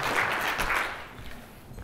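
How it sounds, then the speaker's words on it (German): An audience at a talk in the Charles Hotel in Munich bursts into brief applause, a dense clatter of claps that quickly fades away. "Ein Applaus"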